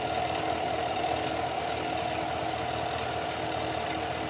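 Steady loud hissing from the oil catch can hose on a 2019-2021 Chevrolet Silverado, a continuous rushing hiss over the idling engine, close up and unbroken, with no talking.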